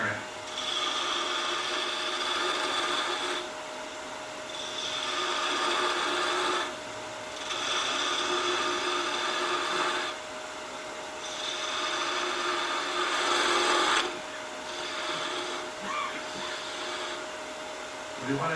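Wood being turned on a lathe, a bottle stopper tapered into a cork shape: steady scraping, rasping cuts in repeated passes of a few seconds each, separated by brief pauses, with a faint constant hum of the machine underneath.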